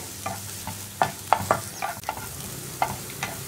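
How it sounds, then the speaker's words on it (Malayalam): Capsicum sautéing in a pan, a soft low sizzle under a handful of irregular scraping and tapping stir strokes from a spatula, close by, with no voices. "അപ്പോൾ ഈ ക്യാപ്സിക്കം ഒന്ന് 1 മിനിറ്റ് ഒന്ന് വഴറ്റിയെടുക്കട്ടെ."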